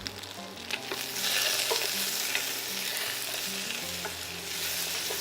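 Continuous loud sizzling of onions and garlic in a hot pan, a steady crackling hiss with occasional stirring and low background hum.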